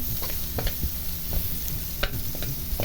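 Onions and garlic sizzle steadily in a hot pan while a spoon stirs them, giving close, irregular scrapes and clicks over a continuous frying hiss.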